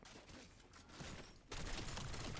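Modded MK78 LMG sprays a zombie-filled hallway in Black Ops 7 Zombies, a dense, quiet wash of continuous automatic fire that swells louder partway through and keeps going without pause.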